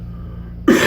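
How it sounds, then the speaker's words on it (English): A single short cough bursts out near the end, following a moment of near silence. "Lingering cough."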